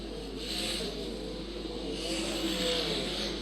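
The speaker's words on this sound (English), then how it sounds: "the guy that love to cheer for here on a night of sprint car racing" Sprint cars racing at Archerfield Speedway, a steady engine roar from the pack that swells and fades as cars circle the dirt track at a distance, with no voices.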